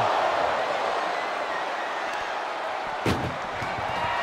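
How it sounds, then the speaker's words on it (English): A single heavy thud as an ambulance door slams shut in a WWE wrestling game, heard over a steady roaring arena crowd. "And they can slam this door shut."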